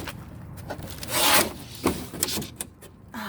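Thin pieces of wood veneer are handled in a dumpster, giving scattered rubbing, scraping and light knocking sounds, close by with no talk.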